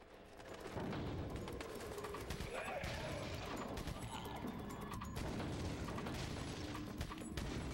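Practice-range gunfire in Resident Evil 4 on the Wii, a dense, continuous clatter of shots and metallic impacts that starts abruptly and stays loud throughout, with voices mixed in.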